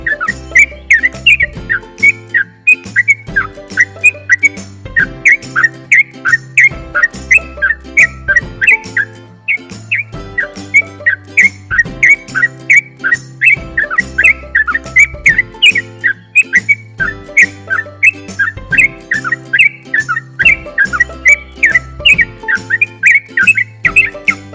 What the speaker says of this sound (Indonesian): yang burung terucukan yang cuman gacor aja suaranya itu seperti ini